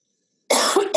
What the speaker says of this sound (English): So, pardon me, I'm going to cough.